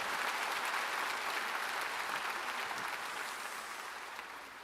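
A church congregation at a Sunday afternoon worship service breaks into thick, continuous applause that holds steady before tapering slightly toward the end.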